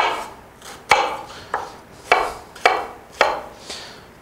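A knife slices through an onion on a cutting board in about six sharp, evenly spaced chops, each a crisp close knock with a short crunchy tail and quiet gaps between them.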